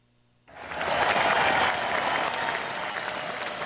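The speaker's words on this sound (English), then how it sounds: "A little delayed kung fu applause." Applause breaks out suddenly after a brief silence, a crowd clapping steadily and fairly evenly, holding a moderate level to the end.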